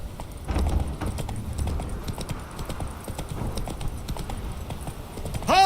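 A horse's hooves clip-clop steadily at a brisk pace in The Witcher 3: Wild Hunt, close and rhythmic, ending with a whinny from the horse.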